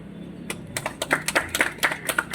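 A group claps their hands, about a dozen sharp, fairly quick claps in an uneven rhythm, close and moderately loud.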